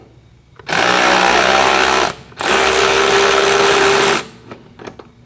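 Power ratchet spinning bolts off a 1972 Volkswagen Super Beetle strut: two sustained loud whirring bursts of about one and a half seconds each with a short gap between, followed by faint clicks and a brief spoken remark.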